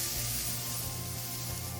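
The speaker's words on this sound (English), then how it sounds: "we're going to take some of our Dad's root beer and spray the outside of it" Dad's root beer sprayed onto the outside of a smoked pork butt on a Weber Smokey Mountain, a short continuous close hiss of spray lasting under two seconds, alone without talk.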